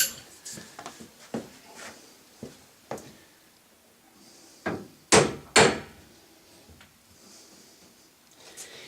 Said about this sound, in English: give this a little tap on with the hammer first